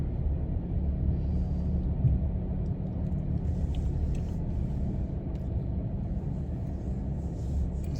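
A car engine idling at low revs while parking, a steady close rumble with faint road and cabin noise on top, unchanging throughout.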